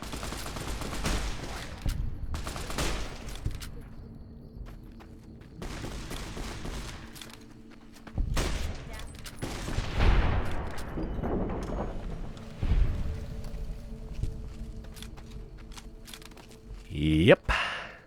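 Video game gunfire with cheap bullets: scattered loud bursts of shots separated by quieter stretches, with a voice talking over the action.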